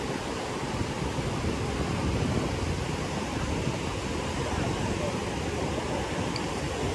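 Ocean surf breaking on My Khe beach in Da Nang, Vietnam, heard as a steady, dense wash of noise that stays even and continuous without distinct separate crashes.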